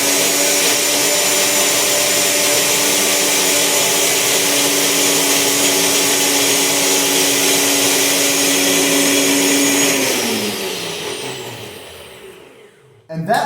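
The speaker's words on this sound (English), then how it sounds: "You can use any type of food processor, any type of blender, okay?" A blender whirs steadily at high speed, loud and close, blending bananas into a vegan dessert for about ten seconds before the motor winds down and stops.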